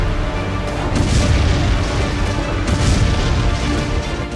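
Heavy booms from Russian drone strikes across Kyiv, a dense, continuous low rumble with repeated blasts merging into one another, loud and reverberant with no voices.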